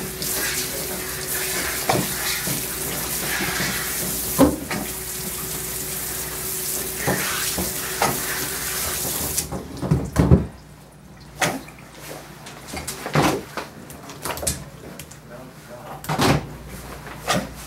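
Water running steadily from a tap into a sink while arms are rinsed, a broad hiss for several seconds that cuts off abruptly, followed by knocks and clatter under nearby talking.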